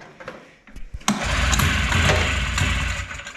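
A two-stroke snowmobile engine is pull-started: a few sharp cranking bursts, then a loud, close, ragged mechanical roar that runs steadily for a couple of seconds before easing off, with no talk over it.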